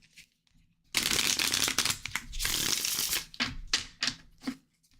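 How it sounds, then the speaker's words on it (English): Close, crisp riffling of cards being shuffled in several bursts, with brief pauses between the flurries of papery flicks. "I'm going to shuffle."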